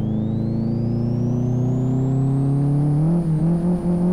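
A 1989 Volkswagen Parati race car tuned to 349 hp with 1 kg of turbo boost accelerates hard in the sim Live for Speed, its engine note climbing steadily in pitch, loud and close, without voices.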